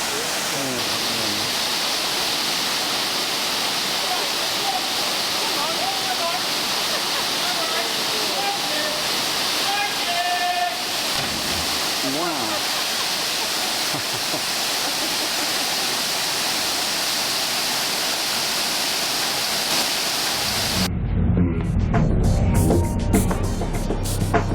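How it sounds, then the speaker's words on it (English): A waterfall on the Caribbean island of Dominica roars steadily and loudly, a dense continuous rush of falling water that fills the whole clip and swells heavier and closer near the end. "then onto the waterfall."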